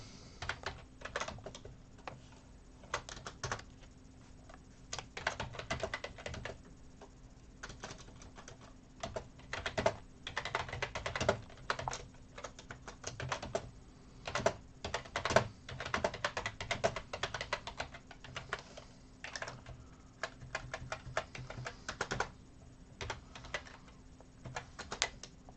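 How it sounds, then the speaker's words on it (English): Rapid, irregular typing on a computer keyboard, with dense bursts of key clicks running steadily throughout at close range with no talk. "I'm having a hard time typing today."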